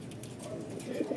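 Racing pigeon cooing at a loft during a race arrival in Rosario, La Union, a short low coo close by with soft background noise.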